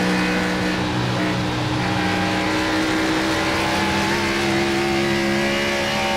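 Stock car engine at Dover International Raceway during an ECR Cup Series race, a steady, dense engine drone with harmonic whine that holds loud throughout, likely several cars running together.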